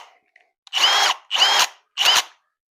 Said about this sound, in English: I gotta drill a hole first.